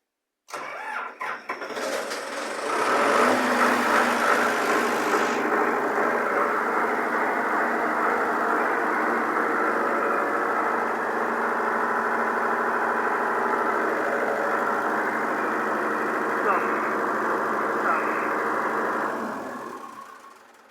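A serviced diesel generator cranks, catches and settles into a loud, steady idle that runs for many seconds before cutting off near the end.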